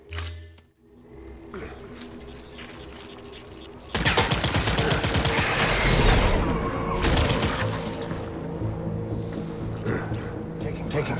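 Gunfire in the video game Death Stranding Director's Cut, a burst of rapid automatic shots and impacts breaking out loudly after a quieter opening, mixed with game sound effects and voices shouting.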